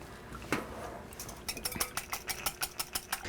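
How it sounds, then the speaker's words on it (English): Whisk beating ingredients with ground dried sage in a bowl: one clink, then a fast regular run of about a dozen metallic taps against the bowl's sides, close and fairly soft, no talking. "And then I'm going to mix this up. And I'm actually going to use a whisk for that."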